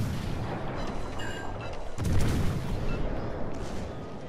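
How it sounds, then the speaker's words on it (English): Warship secondary guns firing in World of Warships: Legends, a dense rumbling barrage of booms with a louder burst midway, continuous and heavy throughout. "Secondary's open fire."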